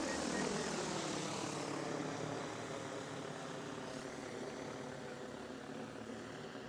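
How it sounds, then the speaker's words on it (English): A DJI FlyCart cargo drone lifts off, its propellers giving a loud, steady broadband whir that holds close and constant, easing slightly in level after the first couple of seconds as it climbs. "Aircraft preparing to take off. Stand back at a safe distance."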